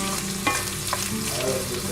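Onion sizzles with bacon in a skillet, a loud, dense, continuous frying crackle with occasional stirring scrapes and no talking.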